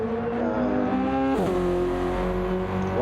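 A racing car engine in a seaside racing video game revs steadily, drops sharply as it shifts or brakes, then climbs again in a loud, continuous whine.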